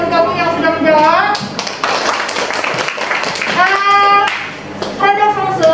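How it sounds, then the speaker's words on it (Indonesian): Classroom students give a short burst of clapping for classmates, loud and close, with children's voices and an adult talking before and after. "Aplaus buat teman-teman kamu yang sudah menjawab."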